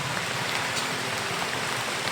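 Steady rain falling in dark, stormy weather, a dense even hiss of drops on surfaces with no pause, fairly close and alone without voices.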